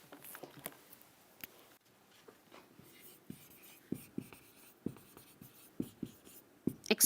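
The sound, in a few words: writing on a board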